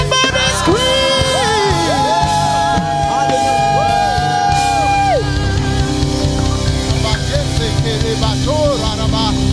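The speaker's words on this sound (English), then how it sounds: "Somebody scream!" Worshippers at a Winter Worship and Warfare service in an RCCG church in Camberwell scream, shout and whoop together in a loud, sustained crowd roar, with musical tones ringing underneath.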